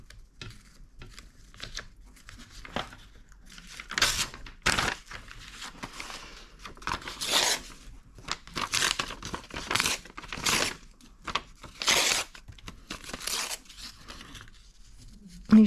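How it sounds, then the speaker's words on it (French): Scissors cut pages from an old book for a junk-style photo album, with close, crisp bursts of paper cutting, tearing and crinkling that come and go irregularly over a quiet background. "Je viens découper des pages"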